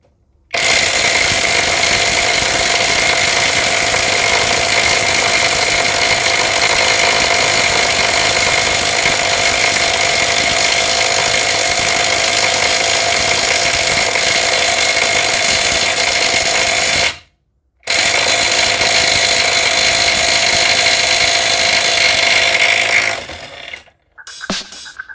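Kamolee 20-volt cordless impact driver runs in a loud, continuous high-pitched whine to loosen a bolt, cuts out briefly, resumes, then winds down at the end.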